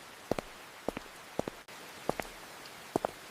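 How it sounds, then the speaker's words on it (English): Rain falls on a wet road during a walk, making a steady soft hiss broken by paired ticking drops or steps at regular intervals. "Listen to the rain."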